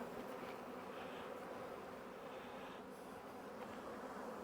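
Honey bees droning steadily at a hive being split, a dense continuous buzz that stays even and close throughout.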